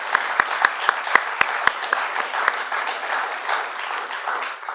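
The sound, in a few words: audience applause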